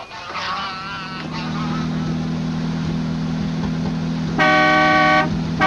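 A car horn honks in a long, steady blast near the end, loud over running engine noise on a road at Niagara Falls, after earlier shorter toots.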